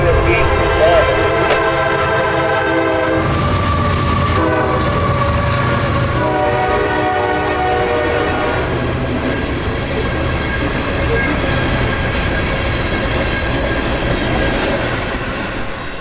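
A CSX intermodal freight train, IO32, rolls loudly and close through downtown Folkestone, Georgia, its horn sounding in sustained tones over continuous rumbling wheels and clatter.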